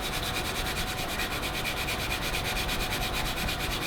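Colored pencil scratches across paper in a continuous close rough rubbing, steady and dry with a faint rhythmic stroke pattern and no talking.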